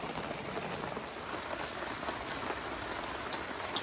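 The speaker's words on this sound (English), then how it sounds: "It's not the tent's fault, but I love the rain." Steady rain pattering on a taut tent, with occasional louder drops standing out against the continuous hiss, close and even throughout.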